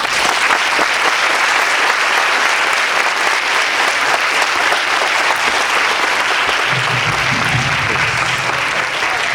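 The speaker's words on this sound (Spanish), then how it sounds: "lo recibimos con un fuerte aplauso" A large audience at a youth conference applauds loudly to welcome a speaker, dense continuous clapping throughout with a brief low murmur near the end.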